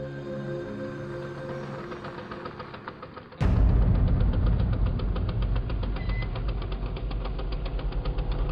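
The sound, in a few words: scooter engine running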